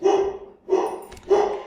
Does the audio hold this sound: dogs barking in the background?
yes